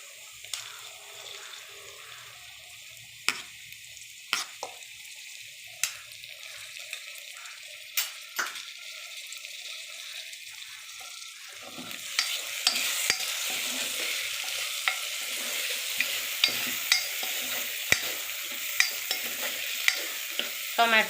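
Onions and tomatoes frying in a pan and stirred with a utensil, a soft sizzle that swells louder partway through, punctuated by regular sharp scraping taps, close by and with no voices.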